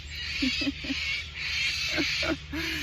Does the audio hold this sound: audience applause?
no